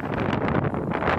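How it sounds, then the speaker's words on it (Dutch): Strong wind blowing hard at an open waterside spot, gusting buffets battering the microphone with rough broadband rushing and no speech. "het waait hier als een raket"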